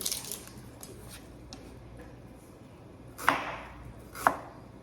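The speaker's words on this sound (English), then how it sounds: "I'm gonna cut some white onion." A knife chops through white onion on a cutting board, with faint light taps early on and then two sharper, louder thuds near the end over a steady low background hiss.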